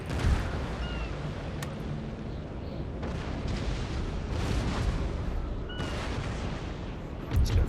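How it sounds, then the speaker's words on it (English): Musket volleys and cannon fire from small Russian Navy frigates in a Napoleon: Total War naval battle, a dense rumbling barrage of booms and crackling shots with heavier blasts near the start and end. "People on the decks firing muskets."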